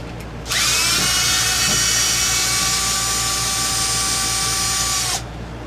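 A power drill whines loudly and steadily for about five seconds, close up, as it drives out bolts on an Arrma Limitless 3s RC car, then stops abruptly.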